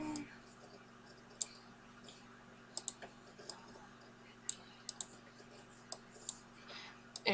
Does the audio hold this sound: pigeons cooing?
no